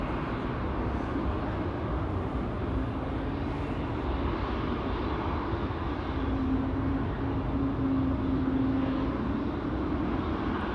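Steady, broad jet roar of an airliner departing Amsterdam Schiphol on the flight to Houston, heard at a distance as a continuous rumble with a faint tonal whine, no voices.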